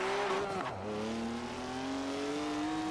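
A drift car in a video game holding a wide slide, its engine droning at a steady, slowly rising pitch over a continuous tire squeal, loud and alone.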